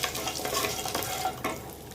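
Mustard seeds, urad and chana dal, asafoetida and chili powder crackle and sizzle in hot oil as a spoon stirs them, a steady close frying hiss with soft scraping, no talk.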